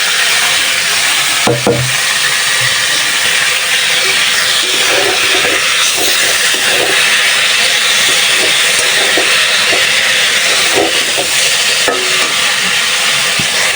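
Leafy greens hit hot oil with lightly fried garlic in a pan, a loud continuous hissing sizzle broken by occasional scraping stirs.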